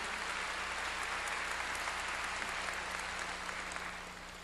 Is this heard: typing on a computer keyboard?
no